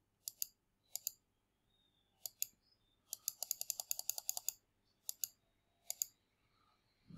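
A computer mouse clicks close by in sharp, crisp bursts: single and double clicks at first, then a rapid flurry of clicks in the middle, then a few more evenly spaced, over a quiet room.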